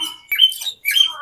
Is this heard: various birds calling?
yes